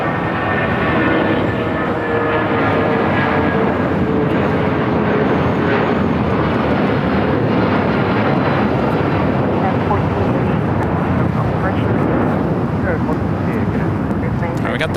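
A United Boeing 757-200 in Star Alliance livery thunders down the runway on takeoff at Los Angeles airport, its dense, loud engine roar continuous throughout, with a voice talking over it.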